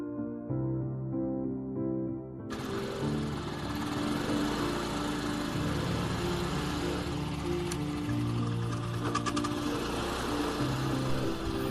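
A motorbike engine runs as two riders set off, a steady buzzing drone that starts low and grows fuller and louder after a couple of seconds.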